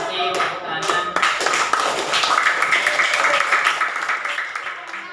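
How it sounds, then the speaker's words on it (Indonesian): Children clap their hands in a classroom, a burst of quick, crowded applause that starts after a few scattered claps and continues steadily, fairly close, with some voices mixed in. "Kasih tepuk tangan."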